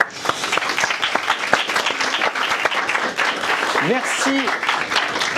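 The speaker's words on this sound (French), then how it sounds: "Bravo, on peut vous applaudir." A studio audience at a French television show breaks into steady applause, a dense, close wash of clapping that fills the whole stretch, with a voice briefly rising over it near the end.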